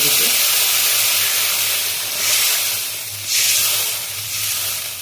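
Loud, steady hissing and sizzling as water is poured into a hot frying pan of fried spices while cooking tilapia fish curry, swelling in a couple of surges before settling.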